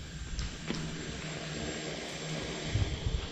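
A cheap, low-quality drone in flight, its propellers giving a steady, continuous buzzing whine at moderate level throughout, with no talking.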